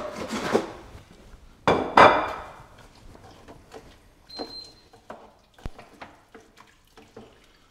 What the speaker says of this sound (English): So I'm going to give this a bit of a stir.